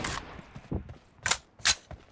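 Several M4 assault rifle bursts crack out in a PUBG match, sharp loud shots in short clusters with quiet gaps and faint shuffling between them.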